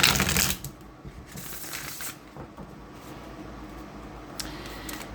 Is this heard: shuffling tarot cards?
yes